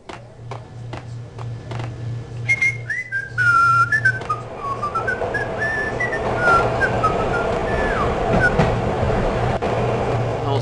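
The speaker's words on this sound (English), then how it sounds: "That whistling coming from me." A person whistles a wandering, sliding melody of short and drawn-out notes over a steady low pulsing hum and background rumble in the Max Payne video game.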